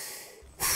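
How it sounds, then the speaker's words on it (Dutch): A cartoon character huffs and then blows a sharp puff of breath to push a toy sailboat forward on a pond, a short soft breath building into one strong close blast. "Ik hijg en ik puf en ik blaas je boot vooruit."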